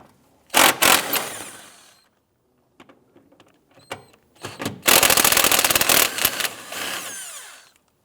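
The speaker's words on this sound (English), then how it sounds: "In the bottom of our airbox, we have three 10mm bolts we want to go ahead, loosen, and remove." 10mm bolts are loosened and removed from the bottom of the airbox on a 1992-1996 Toyota Camry, giving several loud, close bursts of rapid ratcheting separated by quiet gaps.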